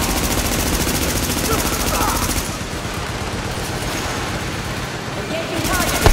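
Dense, sustained automatic gunfire pours onto an enemy-held turret fortification during a firefight in The Division, loud and close with rapid overlapping shots that barely let up across the whole stretch.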